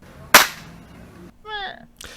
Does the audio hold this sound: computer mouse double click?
no